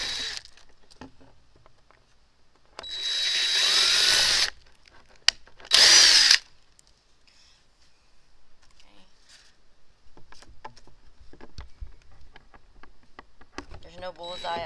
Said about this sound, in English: Drilled right directly in